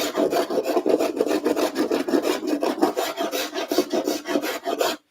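A sharpened spokeshave taking a heavy cut on wood, heard as a continuous rapid run of rasping, shaving strokes, loud and close, with no voices over it.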